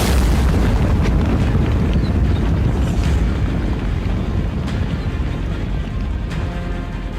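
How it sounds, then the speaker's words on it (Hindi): Long-range missile strike explosion in Russia, a loud, dense roaring rumble that fills the whole stretch and slowly eases off, with a few sharper cracks near the start and end. "ज़ेलेंस्की ने कर दिया लॉन्ग रेंज मिसाइल का धमाका?"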